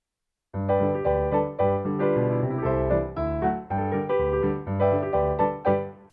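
Ragtime piano with a syncopated right-hand melody over a striding left-hand bass, played solo at a lively, bouncing pace, close and clear from start to finish.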